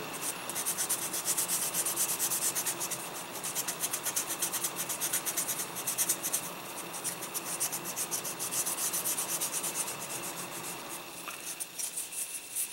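A King Ghidorah model kit part is sanded with the coarse gray side of a sanding sponge, a continuous close scratchy rubbing with a quick back-and-forth rhythm that holds steady throughout.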